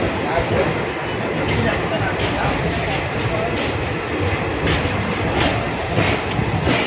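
An express train moves through KSR Bangalore station, with a continuous near rumble and rolling clatter of wheels on rails. A voice talks over the noise.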